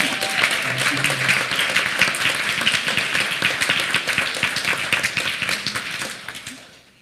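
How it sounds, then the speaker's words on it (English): An audience at a youth program event gives loud, sustained applause with dense clapping. It fades out toward the end, and a brief voice is heard under it. "that deserves applause"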